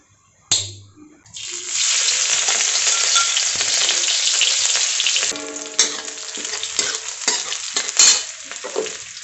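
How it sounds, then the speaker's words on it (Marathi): Green chilies fry in ghee with a loud, steady sizzle that starts abruptly and holds throughout, while occasional spatula scrapes and taps come through near the end. "हिरवी मिरची चांगली परतली आहे, ती अशी बाजूला घ्यायची।"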